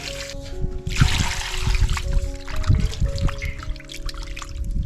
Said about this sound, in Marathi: चला मच्छी स्वच्छ धुवून घेऊया